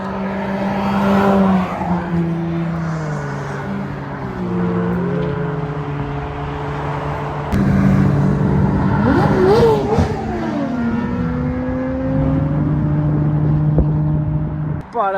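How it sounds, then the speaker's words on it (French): A dark green Porsche 911 GT3 of the 992 generation with gold wheels revs toward 9000 rpm on a Normandy motorway. The loud, close engine climbs in rising and falling pitch sweeps under a bridge, with other traffic rumbling in the background. "GT3 992 qui nous a tapé des rêves à 9000 tours là"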